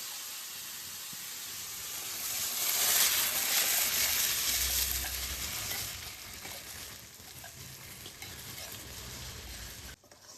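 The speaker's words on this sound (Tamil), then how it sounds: "நம்ம அரைச்சி வச்சுத இப்போ எண்ணெயில் வதக்கணும்" Ground masala paste for crab masala fries in oil, giving a broad hissing sizzle that swells to a louder peak, then eases off gradually before cutting out, heard up close with no voices.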